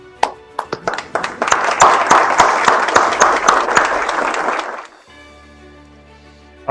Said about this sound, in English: Let's give our student athletes a round of applause.